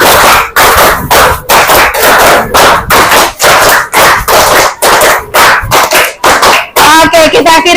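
Children clap hands in a counting ice-breaking game at the end of a lesson, sharp loud claps in quick bursts and groups, with voices calling out between them and speech at the close.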